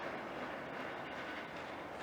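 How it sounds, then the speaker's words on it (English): A Norfolk Southern heritage locomotive train rolls through a rail yard, a steady, faint rumble of rail cars and wheels on track that holds constant throughout. "that's one of the Norfolk Southern Heritage engines, Matt."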